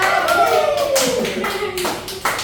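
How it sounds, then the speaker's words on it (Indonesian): A short burst of classroom applause for a student group during a microteaching session: a few close, sharp claps under and between bits of talk. "Oke, tepuk tangan buat kelompok 1."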